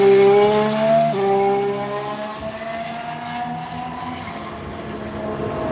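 A Renault Formula 1 car driven by Bottas screams past at Turn 1, its high-pitched engine note dropping sharply through a downshift and then fading as it pulls away, loud at first and receding.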